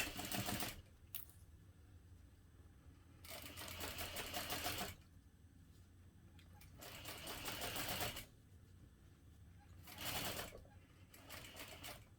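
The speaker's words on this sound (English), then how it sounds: "now we want to sew this at a 3/8 inch seam allowance" A sewing machine stitches a backpack seam at a 3/8 inch seam allowance, running in several close whirring bursts separated by short pauses.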